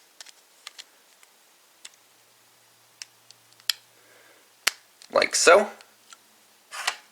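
Small plastic Kamen Rider Ex-Aid toy pieces clicking into arm sockets, sparse sharp ticks and snaps close by, followed by a brief spoken remark.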